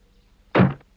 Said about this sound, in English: Bang went the door of Crosspatch Cottage, as Mr. Grumpy slammed it behind him.